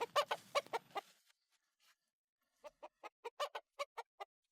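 Chickens cluck in short bursts, with a rapid cluster of close calls at the start, a near-silent gap, then a steady run of about nine evenly spaced clucks near the end.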